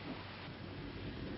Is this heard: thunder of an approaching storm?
yes